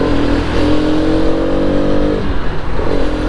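A Bajaj RS 200 motorcycle with a 200cc engine rides along a highway, its engine droning loud and close with shifting revs and steady wind rush throughout.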